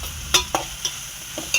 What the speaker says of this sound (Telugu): కొంచెం ఎండి చేపలు ఉల్లిపాయలు బాగా ఫ్రై అవ్వాలి.